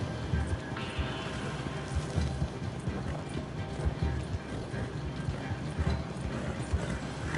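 Horse hooves clip-clopping in Red Dead Redemption 2, a steady run of hoofbeats with a brief whinny, mixed under a busy game background with voices.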